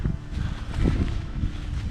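Strong outdoor wind during an Illinois hunting trip, a continuous low buffeting roar with gusts swelling and easing, loud and close against the microphone.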